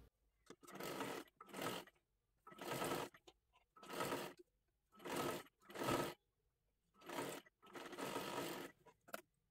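A sewing machine double-stitches a sleeve seam on a dress in about eight steady bursts of rapid needle chatter, each lasting around a second with short pauses between.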